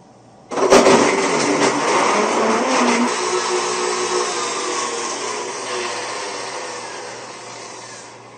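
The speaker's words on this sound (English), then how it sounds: "turn on the blender, and in this particular case, I choose to put it on a manual speed of 4" A Blendtec blender making a mocha frappe whirs to life abruptly and runs at manual speed 4, a loud continuous motor hum with a slight drop in pitch over time.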